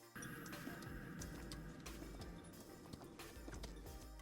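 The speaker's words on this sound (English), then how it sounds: "it's a sort of horse and cart scenario" Quiet outdoor street ambience with horse hooves clip-clopping and a cart rattling along at a steady pace, distant and low.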